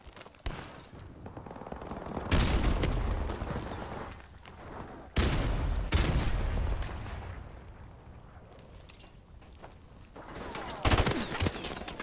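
Gunfire in the video game Call of Duty Modern Warfare rattles in sustained automatic bursts with booming impacts, loud and dense across the whole stretch with brief lulls between volleys.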